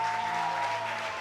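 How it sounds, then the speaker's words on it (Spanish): Church congregation applauding, a short, moderately loud wash of clapping with a faint steady tone beneath it and no talk. "Yo pido a la iglesia un fuerte aplauso para estos muchachos"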